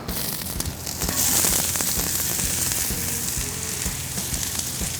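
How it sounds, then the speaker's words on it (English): A whole onion drops into olive oil on a hot Pit Boss KC Combo griddle and sizzles loudly, a dense continuous frying hiss that swells after the first second and carries on steady, close and alone. "let's get these onions thrown down. A little bit of olive oil first. Then the whole onion."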